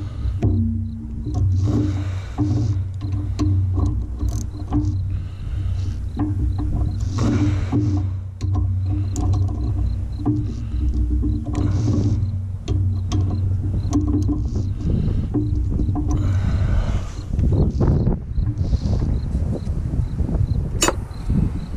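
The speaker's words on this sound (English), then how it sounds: "You'll notice I'm using a quarter inch drive ratchet because I don't want to put a whole buttload of torque on these and break screws." A quarter-inch drive ratchet turns screws on a Lucas sawmill slabber hub, giving repeated close mechanical clicking and handling noise over a steady background hum throughout.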